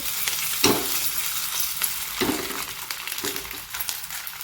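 Food for a fasting recipe sizzles steadily in a hot kadhai, with a few sharp scraping strokes as it is stirred, close up and with no talking.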